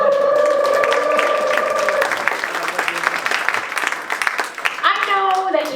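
Loud audience applause at a magic banquet fills the room, a dense wash of clapping with some crowd voices and a sustained tone early on, tapering toward the end.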